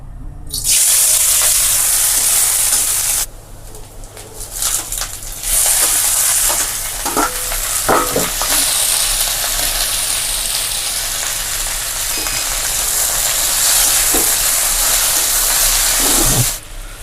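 Onion, garlic and chili frying in a pan give a loud, steady sizzle and hiss throughout, with a few stirring clatters and scrapes scattered over it and a short quieter dip early on.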